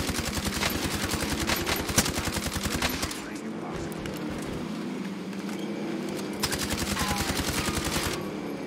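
Rapid automatic gunfire in Call of Duty: Black Ops Cold War, loud bursts of close machine-gun fire with a brief pause midway before the shooting resumes, then stops near the end.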